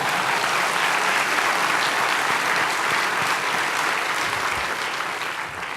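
Sustained audience applause fills the hall at an evening award ceremony, a dense, steady clapping from a large crowd that holds its level throughout before easing slightly at the very end.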